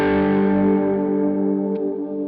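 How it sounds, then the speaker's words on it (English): A single sustained electric guitar chord through a Kemper Profiler rings out and slowly decays, washed in spacious Cirrus reverb with a slightly distorted, shimmering tail. "Then we have the Cirrus reverb, which adds this atmosphere."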